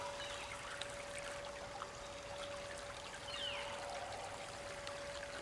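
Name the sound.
stream water trickling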